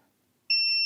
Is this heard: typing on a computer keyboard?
no